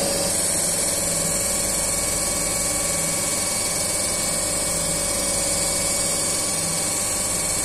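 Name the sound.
DC compound generator running at stable speed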